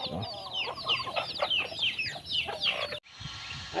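Several chickens cluck busily and continuously nearby while being fed in the morning, overlapping chatter, before the sound cuts abruptly to a quieter background.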